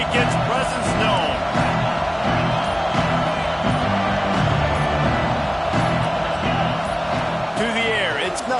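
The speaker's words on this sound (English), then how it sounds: "This crowd ready to make its presence known." Stadium crowd noise at a Nebraska vs LSU football game, a dense, steady roar of many voices filling the space with occasional whistles rising above it, continuous and fairly loud throughout.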